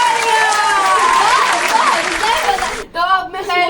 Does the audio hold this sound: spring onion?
no